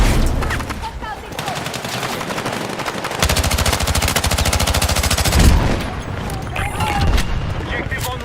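Rapid automatic gunfire with heavy recoil from a Battlefield 6 match, a sustained rattling burst of closely spaced shots lasting a few seconds amid other game noise, while a player speaks.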